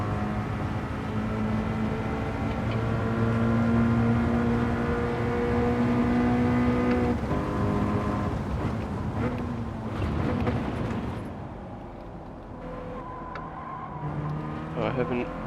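Race car engine in a racing video game, driven on a track layout with an endurance chicane, droning steadily with rising and falling revs through corners; a voice speaks over it at times.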